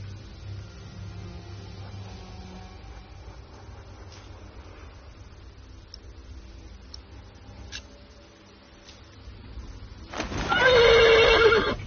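After a long stretch of quiet ambient rumble with faint clicks, a horse in a video game lets out a loud, close whinny near the end.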